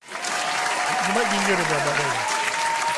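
Continuous applause played as a sound effect on a live talk show, a dense steady clapping wash throughout, with someone speaking briefly over it.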